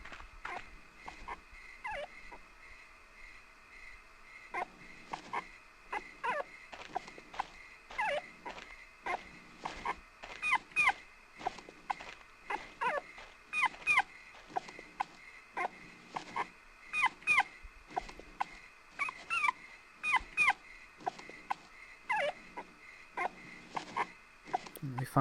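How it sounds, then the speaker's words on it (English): A dog whimpering in danger in the video game Rule of Rose: repeated high, thin whines and yips in uneven bursts over a quiet background, fairly faint overall. "It sounds like that poor dog's in danger."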